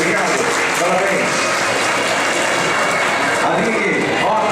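Loud, dense applause from an audience at an award ceremony in São Paulo, a thick roar of many hands clapping continuously throughout, with crowd noise mixed in.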